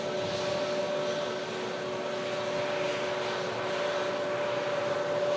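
Lufthansa airliner in special livery passing overhead at a plane-spotting location, a steady roaring engine drone with a sustained whine, loud and unbroken throughout with no voices.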